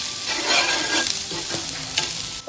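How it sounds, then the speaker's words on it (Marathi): Steady close sizzle of onion, garlic and curry leaves frying in a pan, with light stirring scrapes and no talk. "इकडे कढीपत्ता टाकून घेते, लसूण 3-4 पाकळ्या लसूण, कांदा चांगला भाजून घेऊया आपण."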